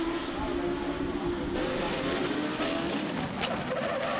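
Legends race cars leave the start at Botniaring and head into the first corner, a dense, continuous roar of several engines with faint tire noise, steady and loud throughout.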